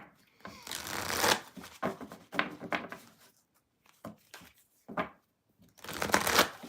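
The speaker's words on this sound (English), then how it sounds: "I'm going to shuffle, read the chat" Tarot cards are shuffled by hand in several quick, close, crisp bursts separated by short pauses.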